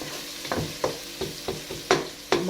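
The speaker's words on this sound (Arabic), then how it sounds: "هنزل بالثوم بتاعي" Garlic tossed into onions frying in a pan sizzles steadily while a utensil stirs, giving a series of scraping strokes roughly every half second, a few sharper than others, with no voices.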